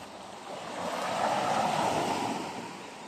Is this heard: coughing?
no